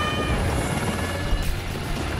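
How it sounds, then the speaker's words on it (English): A helicopter in the Battlefield Hardline video game drones with a steady, dense rotor and engine roar, loud and continuous throughout the short stretch. "Wait, are we on a helicopter?"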